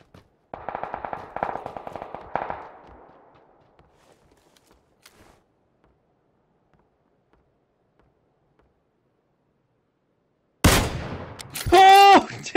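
Automatic gunfire bursts in the PUBG battle royale game, a rapid rattling string of shots over about two seconds that tails off, followed much later by another loud blast-like hit and a short tonal burst near the end.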